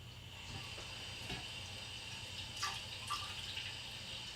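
Water runs steadily into a measuring container while darkroom chemicals are being mixed, a soft continuous trickle with a few faint drips and splashes near the end.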